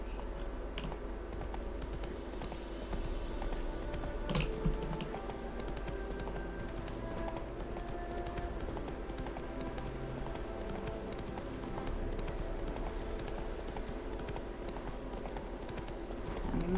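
Roach the horse gallops in the video game The Witcher 3, a steady rhythmic clip-clop of hooves with faint jangling tack running throughout, close and even.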